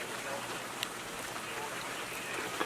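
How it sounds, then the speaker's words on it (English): Steady rain falls around a cabin in Alaska in spring, a soft continuous patter and hiss with a few sharper drips, heard at moderate distance under quiet outdoor ambience. "still raining"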